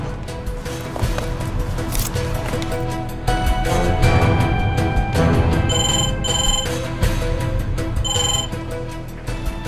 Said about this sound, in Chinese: 兄，给飞哥打电话吧。